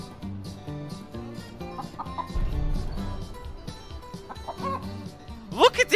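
Clucking from a chicken in the video game ALTF4 rises at the very end in a few sharp squawks, after a stretch of game music and rumbling sound effects.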